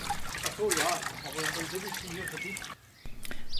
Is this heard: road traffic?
no